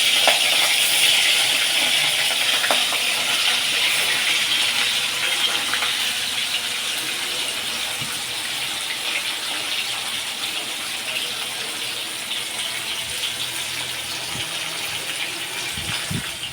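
Rui fish pieces sizzling in hot oil, a steady, loud, close hiss of frying that holds evenly throughout with faint occasional pops.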